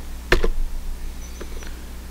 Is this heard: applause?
no